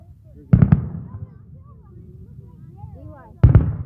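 Fireworks burst outdoors in two loud, sharp volleys with rumbling tails, separated by a stretch of quieter crowd murmur and voices in between.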